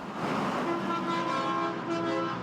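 Car horns honk in a sustained, overlapping chorus from passing road traffic in Fort McMurray, loud and continuous over the rumble of vehicles.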